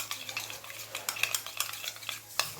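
A spoon scrapes and clinks around a pan of sour okra gojju, soft irregular stirring strokes with a faint simmer beneath, close and quiet with no talking.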